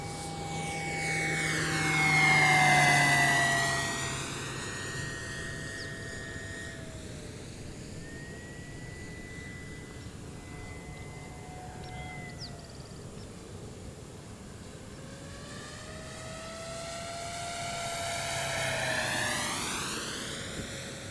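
An E-flite Pilatus PC-21 electric RC model airplane flies overhead, its motor whine rising loud on a close pass, fading as it banks away, then swelling again near the end; no talk.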